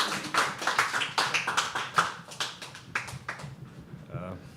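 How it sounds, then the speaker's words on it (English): An audience at a live poetry open mic claps in a ragged, sustained burst as a poet comes on stage, fading toward the end while voices sound over it. "Keep clapping."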